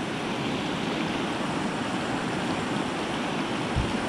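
Water swollen by rain and melting snow rushes over a weir in a steady, loud roar of turbulent flow that continues without a break.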